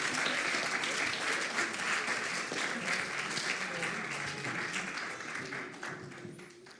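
A church congregation applauds the family, a dense, steady wash of clapping from many hands that holds at first and then slowly fades toward the end.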